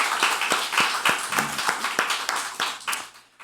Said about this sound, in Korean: 우리 다시 한번 큰 박수로 격려해 주시면